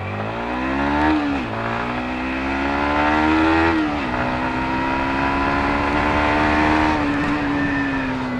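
Yamaha MT-15 motorcycle accelerating hard in a drag race against a Yamaha Aerox scooter, engine pitch climbing steadily with audible dips at gear shifts, loud and close throughout.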